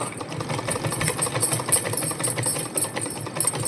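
A sewing machine stitching clothes at night, running as a steady, busy mechanical whir with rapid rhythmic clatter, fairly close and continuous throughout, with no talk over it.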